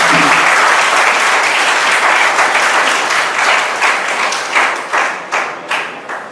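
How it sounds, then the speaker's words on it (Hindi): Audience applause for young teachers at a National Service Scheme plantation drive event, loud dense clapping from a gathered crowd that thins into scattered individual claps as it fades out. "मैं चाहूँगा कि उन युवा टीचर्स के लिए आप सब जरूर तालियाँ बजाएँ"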